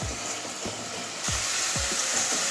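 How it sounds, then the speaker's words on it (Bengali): Spice paste (masala) frying in hot oil, a steady close sizzle broken by several soft scraping strokes of stirring, louder in the second half. "এবারে ভালো করে কষিয়ে নেবো মশলাটা"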